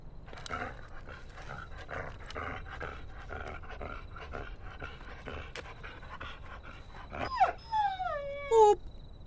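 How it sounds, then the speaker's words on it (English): A dog pants rhythmically while moving, with quick breathy huffs throughout, then breaks into a few high, whining howls and yips toward the end. "He's still barking while moving."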